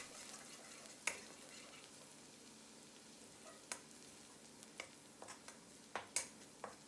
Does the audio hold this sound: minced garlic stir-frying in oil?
yes